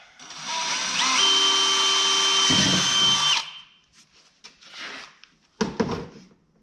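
A power drill whines at full speed, boring through a thick plastic aftermarket tractor seat for a few seconds, then stops, followed by short clunks and handling noises nearby.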